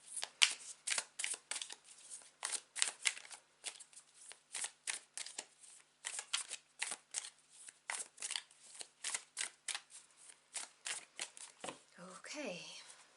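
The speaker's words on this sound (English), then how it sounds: "whilst I shuffle the cards" Tarot cards are shuffled repeatedly in quick rhythmic riffling bursts, close and crisp, with brief pauses between shuffles and a soft breath near the end.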